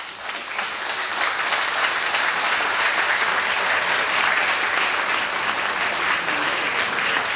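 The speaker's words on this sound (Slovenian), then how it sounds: "en lep aplavz in ena velika hvala" Applause at the Komenda trade fair in Slovenia, a dense, loud sustained clapping from a large crowd that swells in quickly and holds steady throughout.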